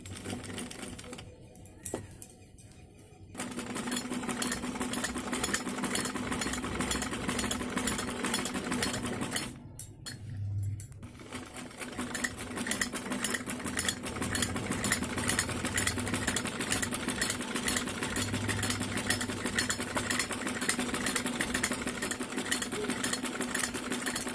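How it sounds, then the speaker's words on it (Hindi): Sewing machine stitching a kameez kurti, a close, loud rapid mechanical whirring and clattering that runs steadily, briefly pausing twice before resuming. "अब हम यहाँ पे सिलाई लगाएंगे।"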